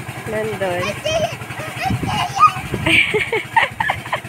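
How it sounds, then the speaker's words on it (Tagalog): Chickens on a farm cluck and squawk in short, scattered calls near the listener, mixed with a low engine hum and someone talking over them. "Ayan, guys, may manok."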